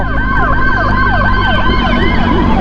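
A loud, close ambulance siren wails in a rapid, repeating rising-and-falling pattern over engine rumble.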